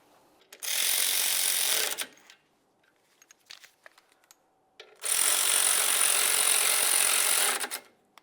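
Two long bursts of rapid ratchet clicking as slider bolts on a Lincoln Navigator brake caliper are snugged up, close and loud, separated by a pause with scattered small metallic clicks and taps.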